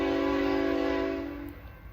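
A BNSF eastbound freight train at Strong City, Kansas, sounds a loud, sustained horn blast from nearby that holds steady and then fades out over the rumble of the passing train.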